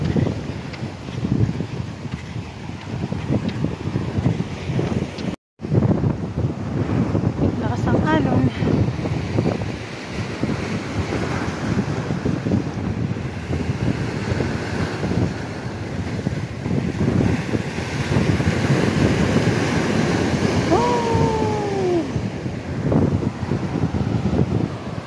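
Strong seaside wind buffets the microphone with loud, continuous roaring gusts over the sound of waves and surf, and people talk briefly amid the noise.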